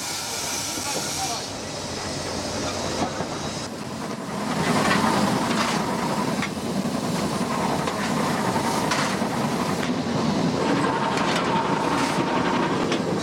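A steam train running downhill on a New Zealand line gives a continuous rumble with steam hiss and scattered rail clicks, loud and close, swelling midway and holding steady.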